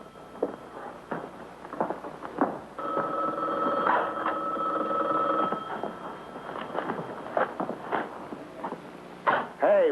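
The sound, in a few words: telephone ringing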